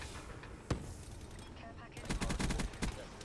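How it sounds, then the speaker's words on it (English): Sten submachine gun fire in a video game: a single sharp shot, then a rapid burst of automatic fire, heard moderately close over a low background bed. "one of the things I love about the Sten, I have to say, is I love the way it sounds"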